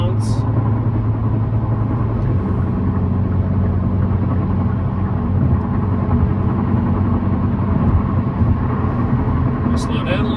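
A Hyundai Elantra N with a WindBooster 3S throttle controller set to 50% accelerates to pass another car, giving a steady, loud engine drone with low rumble and road noise throughout.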